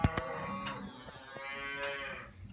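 Beef cows and heifers on a farm moo loudly and close by, with a couple of drawn-out calls overlapping over a short stretch.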